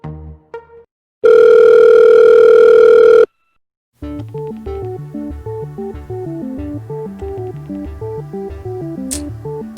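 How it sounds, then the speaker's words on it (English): An outgoing telephone call: a loud, steady tone holds for about two seconds, then after a short gap a repeating electronic ringback pattern cycles on and on, with no voices. "Pick up the fucking phone, bruh."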